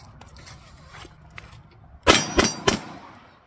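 Three sharp, loud gunshots from a full-size handgun ring out in quick succession near the end, each with a metallic ring, following a stretch of quiet handling noise.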